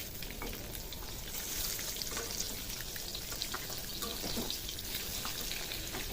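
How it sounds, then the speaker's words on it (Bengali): Peeled boiled eggs frying in hot oil in a pan, giving a steady, close hiss with scattered light crackles and pops throughout, no voices. "এখন যে ডিমগুলো আমি কেটে রেখেছিলাম, ডিমগুলোকে ভেজে নেব।"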